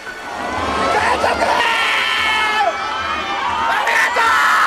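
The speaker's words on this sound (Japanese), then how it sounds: "声援が 鳴り止みませんでした。" Baseball crowd cheering and shouting for manager Sadaharu Oh, a loud sustained roar of many voices with high whoops and cries rising above it.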